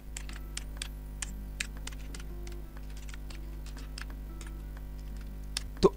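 A computer keyboard being typed on while entering a website URL, quiet irregular clicking keystrokes over a low steady hum.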